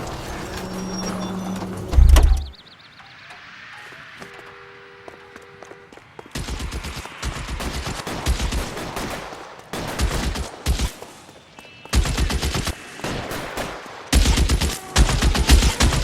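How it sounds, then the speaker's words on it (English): Shootout gunfire in the video game L.A. Noire: after a short burst and a lull, rapid volleys of gunshots crack in repeated clusters, loud and close, with brief quiet gaps between bursts. "These guys aren't gonna go quiet. Open fire!"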